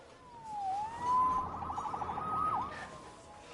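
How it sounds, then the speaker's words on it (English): A police siren in the video game Marvel's Spider-Man wails with rising and falling sweeps, moderately loud and slightly distant, sounding alone with no talk. "Saved by the siren."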